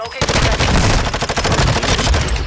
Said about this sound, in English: He's shooting at us, bro.